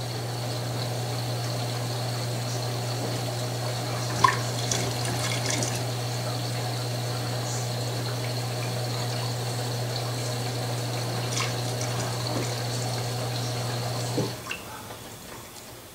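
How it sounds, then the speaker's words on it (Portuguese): An Electrolux Ultimate Care 11kg/7kg washer-dryer (LSW11) fills with water during a blanket wash: a steady hum of inflowing water and pump with light drips, cutting off shortly before the end as the intake pauses. No one speaks. "Ela vai fazendo essas pausas mesmo na entrada de água, é normal."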